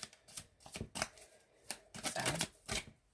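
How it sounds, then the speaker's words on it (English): Tarot cards are shuffled by hand at close range, a quick series of papery riffles and taps in irregular bursts with short pauses between them. "I have shuffled the cards"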